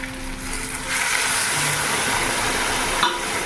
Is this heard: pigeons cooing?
no